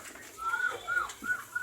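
Pigeons coo in a loft, a few soft rolling calls repeating close by in a quiet space.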